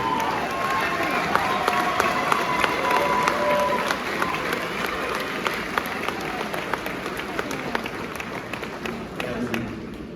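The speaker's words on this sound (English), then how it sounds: "Can we give them a round of applause, please?" An audience at a college graduation ceremony applauds student ambassadors, a sustained round of clapping with individual claps standing out sharply, some murmuring voices underneath, and the clapping gradually thinning toward the end.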